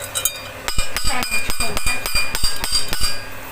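Hammer tapping to secure a part while repairing a Sanyo electric fan, about ten sharp, evenly spaced metallic blows in close succession, near and loud.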